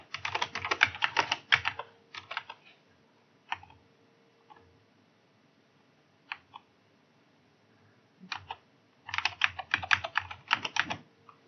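Someone types an admin password on a computer keyboard while installing Exchange Server 2019 on Windows Server 2022. Dense bursts of rapid, close keystrokes open and close the passage, with sparse isolated clicks in between and no talking.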